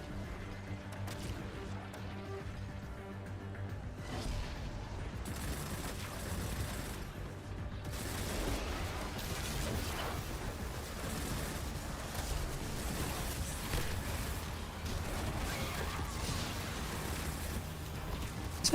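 Rapid SMG gunfire in Destiny 2: The Edge of Fate comes in dense, sustained bursts over constant game music and effects, loud and continuous throughout.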